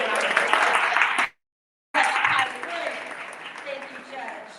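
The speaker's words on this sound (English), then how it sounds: "Can we give us one round of applause?" Audience applause for competition judges: a room of people clapping steadily, broken by a brief cut to silence, then resuming and tapering somewhat, with a voice speaking over it.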